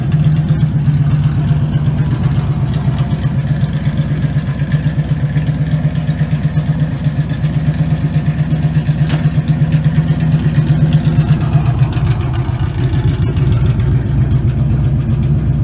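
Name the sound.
van engine revving with open exhaust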